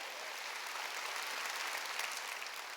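A church congregation at a Wednesday worship service claps together, a steady, even wash of applause from many hands, heard at moderate distance with no break.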